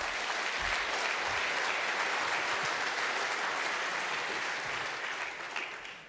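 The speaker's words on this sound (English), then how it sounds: "So please give him a big round of applause." A conference audience gives a big round of applause for a speaker introduced to talk on verifying firewall rules, dense and sustained clapping from a full room that fades slightly near the end.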